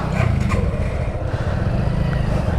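A motorcycle engine idles and runs steadily at the start of a ride, a loud, close, continuous low rumble with no talk.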